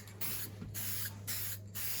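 A spray paint can held upside down to clear its nozzle gives four short hissing bursts, close and crisp, separated by brief pauses.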